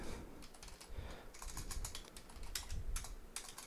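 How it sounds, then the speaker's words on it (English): Steady typing on a computer keyboard, a rapid run of close, crisp key clicks in irregular bursts, heard alone with no voices. "I'm having a good time typing."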